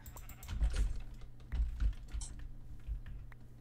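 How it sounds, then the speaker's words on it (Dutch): In the video game Minecraft, a black sheep bleats a few times, quiet and thin, under steady computer keyboard typing. "Oh mijn god, ik heb een zwart schaap gevonden."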